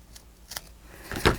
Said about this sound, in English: The fold is away from me, and just cut this way.